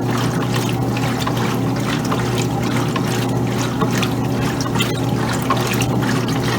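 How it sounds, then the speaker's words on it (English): Kenmore laundry center washing machine, a 2007 model, agitating a load of clothes on the regular cycle, giving a steady sloshing, trickling water churn with a constant motor hum throughout, close and moderately loud. "Agitating the clothes is really great."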